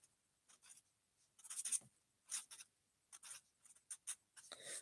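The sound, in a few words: writing with a pen on paper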